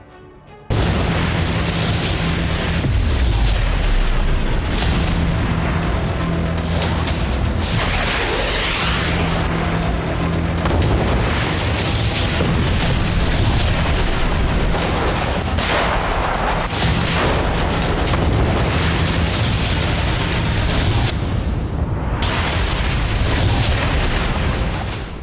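Large explosion at an ammunition depot, a sustained roar of booms and rumbling blasts with crackling bursts like secondary detonations, loud and continuous for the whole stretch with no voices.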